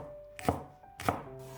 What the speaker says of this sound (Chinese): 半截大葱切成葱花